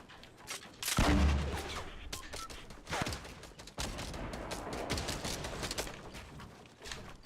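Other players firing in Fortnite: a sharp burst near the one-second mark, then rapid cracking shots that keep going over about six seconds, moderately loud and fairly close.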